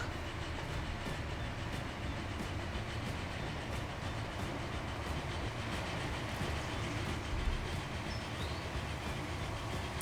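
Steam locomotive train running in the Transport Fever video game, a steady rolling rumble with faint rhythmic clicks of wheels over rail joints, continuous and fairly quiet with no talk.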